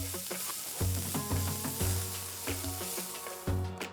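Chopped onion sizzling and frying in hot mustard oil in a pan, a steady crackling hiss with occasional stirring scrapes, close and alone.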